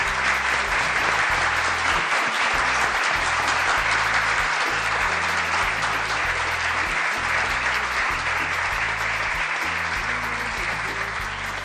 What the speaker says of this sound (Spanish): Denle un fuerte aplauso, papito Dios,